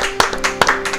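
A church congregation claps in acclamation, with a few distinct hand claps at an uneven pace heard close over a sustained musical or vocal background.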